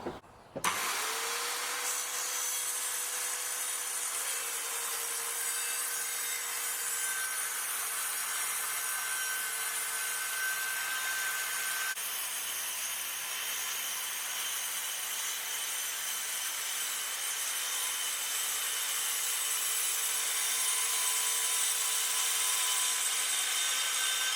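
An Evolution R185CCSX multi-material circular saw running on an ST1400 track cuts through 6063 T5 aluminium alloy sheet, starting with a sharp spin-up, then holding a steady high-pitched whine and grind, close and alone.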